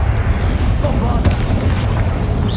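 A Bombarda blasting spell goes off in Hogwarts Legacy, a loud, deep booming explosion with a low rumbling roar that fills the whole moment amid dense game sound.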